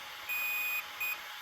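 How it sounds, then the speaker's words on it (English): A Rival MT8 electronic speed controller sounds a programming tone twice: a long beep followed by a short one, thin and high-pitched against faint background hiss. "It's a long beep and then a slow beep."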